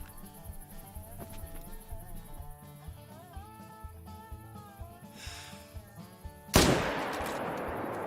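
A single loud rifle shot in the hunting game theHunter: Call of the Wild, on the Vurhonga Savanna map, cracks sharply near the end and rings out over steady in-game background music.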